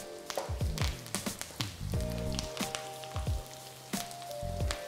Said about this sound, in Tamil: இப்போ பார்த்தீங்கன்னா நல்லா ஃப்ரை ஆக ஆரம்பிச்சிருச்சு, கலர் மாறிடுச்சு.